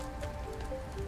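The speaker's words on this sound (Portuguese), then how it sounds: "Caraca, tá caindo granizo?" Hail rattling down in an aquatic survival video game, a steady, faint, even patter spread across the full second beneath sustained tonal game music, with no talking.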